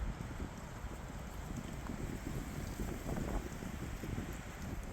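Wind buffets the microphone on a low ridge in Byeonsanbando National Park, a steady rough rumble with gusty swells and no voices.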